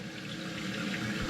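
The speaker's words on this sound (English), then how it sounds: "So now we want to turn the water on." Water rushing steadily into a newly installed toilet tank as the supply is turned on, a continuous hissing, filling flow close by with no talking.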